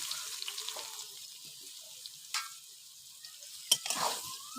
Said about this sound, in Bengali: ভিজিয়ে রাখা সয়াবিনগুলো আমি দিয়ে দেবো তেলের মধ্যে